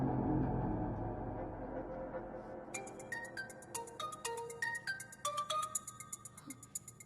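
A mobile phone ringtone chimes as a melodic run of bright electronic tones. It starts partway through, after a low rumbling hush, and keeps ringing steadily to the end.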